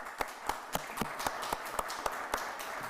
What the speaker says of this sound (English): I want to give a round of applause for them as well.